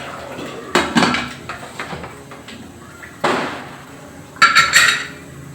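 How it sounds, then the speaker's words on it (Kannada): Metal lid placed on a cooking pot of boiling soybean pulao, two sets of clanging, rattling metal knocks spaced a few seconds apart, near and crisp over a quiet kitchen background. "ನಾನು ಇವಾಗ ಲಿಟ್ಟ ಕ್ಲೋಸ್ ಮಾಡ್ತೀನಿ"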